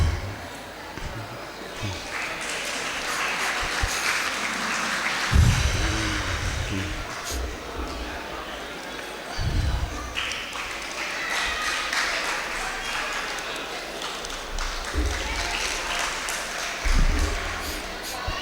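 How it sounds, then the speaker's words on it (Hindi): A seated audience at a spiritual meditation gathering claps in loose, uneven bursts over a crowd murmur, with someone talking amid the clapping. "हाँ, ताली।"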